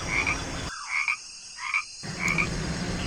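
A frog croaking in repeated short calls against steady background noise, fairly close and distinct, with no voices.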